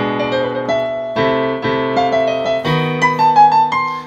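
Harmony and melody are played deliberately out of rhythm, the chords running ahead of the tune, giving sustained, tonal notes in uneven overlapping phrases with no talking.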